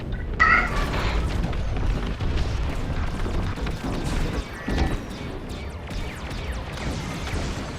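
Missile fire and explosions in the Star Wars: Squadrons space combat video game, a sharp launch burst followed by rolling booms and crashing impacts over a continuous rumbling din.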